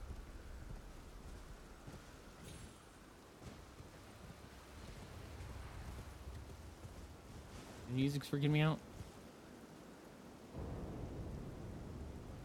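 Low rumbling thunder and steady rain from a storm in the video game Elden Ring: Shadow of the Erdtree, faint and continuous beneath a player's speech, with a brief louder tonal burst partway through.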